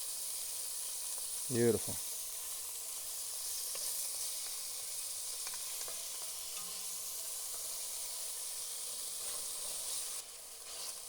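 Meat browns in a hot pot with a steady, soft sizzle and hiss running throughout, and a brief spoken word early on.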